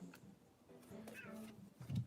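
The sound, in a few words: cat meowing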